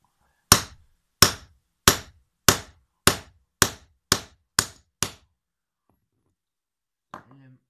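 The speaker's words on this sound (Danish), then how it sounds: "Så skal vi have alle håndværkers bedste ven. En hammer." Nine sharp, evenly spaced hammer blows ring out close and loud while a cable shield wire is pressed during a 60–72 kV cable termination job, followed by a pause and a faint rustle.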